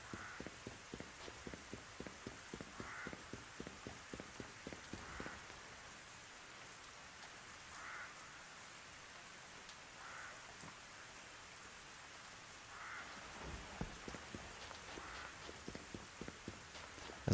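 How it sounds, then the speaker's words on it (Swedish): Rain falls in the farming video game Rune Factory Frontier, a soft continuous patter with a faint repeating rhythmic ticking of steps over it, quiet and without talk. "Jag vill inte säga någonting bara för att kunna lyssna på regnet."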